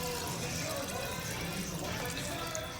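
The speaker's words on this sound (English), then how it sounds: "I'm just adding 6 cups of water" Six cups of water pour into an Instant Pot holding vegetable broth, a continuous close splashing and trickling stream that stays fairly even throughout.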